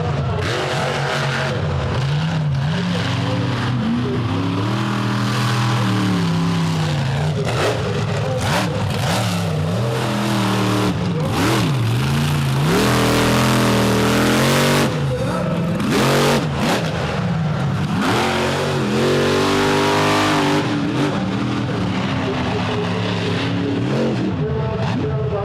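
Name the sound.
monster truck engine roaring on arena track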